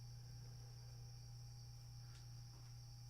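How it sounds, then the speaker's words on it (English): Crickets chirp in a steady, continuous high-pitched trill, faint and even throughout, with no talking. "Oh, you do like the crickets, or are they too loud?"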